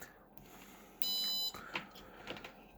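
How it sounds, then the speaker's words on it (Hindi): A multimeter's continuity buzzer sounding while testing the PCB of a Haier DC inverter air conditioner. It gives one steady, sharp beep lasting about half a second, followed by faint clicks and handling noise. "ये बजर मोड पे लगाऊंगा तो आपको ये बेल नज़र सुन जाएगी"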